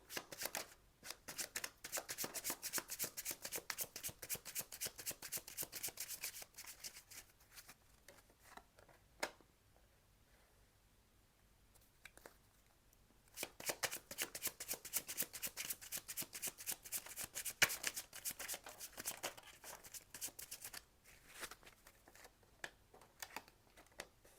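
Bach flower cards shuffled by hand in rapid riffling bursts, a dense patter of card flicks in two long runs broken by a quiet pause, close and fairly soft with no talking.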